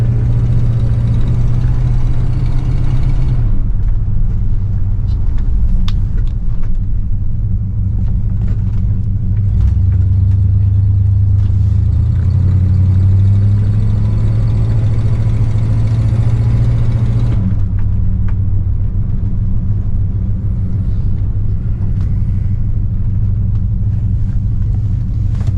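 A Cadillac Eldorado drives uphill in fall, its engine a loud, steady low rumble that rises and shifts in pitch midway, with faint clicks and road noise over it.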